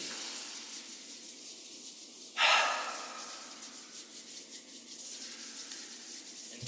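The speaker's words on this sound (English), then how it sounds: "rub the palms together, and breathe" Palms rub together in one short, bright brushing swish, set within slow, soft breathing that continues quietly before and after it in a calm gesture practice.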